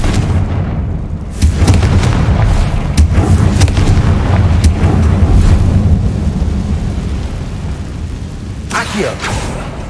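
A Confringo blasting curse explodes in the Hogwarts Legacy video game, setting off a loud, sustained booming rumble with crackling bursts over continuous game noise. A final blast lands near the end.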